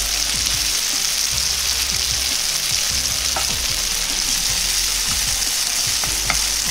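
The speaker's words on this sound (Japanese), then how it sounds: "なるべく薄くなるように広げて片面を焼いていきます。" Yakisoba noodles spread thin in a hot oiled frying pan, searing on one side with a continuous loud hiss, a few faint ticks and pops breaking through the steady sizzle.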